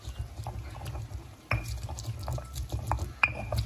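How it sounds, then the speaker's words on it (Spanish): Guajillo chile pieces are ground with a little water, producing soft wet sloshing and scraping close up, punctuated by a couple of sharp clicks. "por aquí ya molí el chilito guajillo, es solo un chile guajillo"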